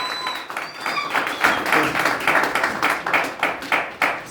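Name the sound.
audience applause for Sylvain Obam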